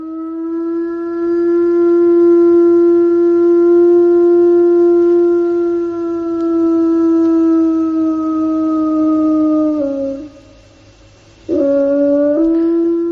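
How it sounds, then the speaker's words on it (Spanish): A wolf in the Arctic gives a long, steady, tonal howl that holds one pitch for several seconds, dips and fades, then rises again in a second howl. It is loud and close, with no talking. "Los especialistas todavía no saben por qué aúlla el lobo"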